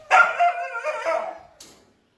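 A dog at an adoption shelter gives a couple of close, loud barks with whiny, yelping tails, standing alone without talk.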